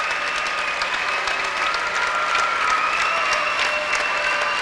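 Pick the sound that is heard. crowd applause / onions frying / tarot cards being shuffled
crowd applause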